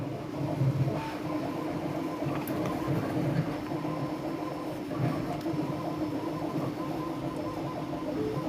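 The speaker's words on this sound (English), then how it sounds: "That is the 3D printer in the background." A Bambu Lab P1S 3D printer runs in the background, giving a steady mechanical hum with faint repeating whirs and rattles from its moving parts, continuous and fairly quiet.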